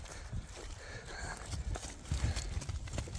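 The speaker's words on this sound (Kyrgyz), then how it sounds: "Послушный жылкы экен." A young horse walks nearby on its hooves, making irregular clip-clop steps that thud close and fairly loud, with faint outdoor noise and no speech.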